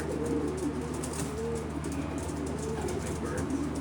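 Racing pigeons coo in a loft during pairing, soft repeated throaty calls overlapping at close range above a steady background hum, with faint voices in the background.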